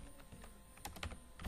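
Fortran code is typed on a computer keyboard in a short, quiet patter of key clicks with a few firmer strokes toward the end, heard alone.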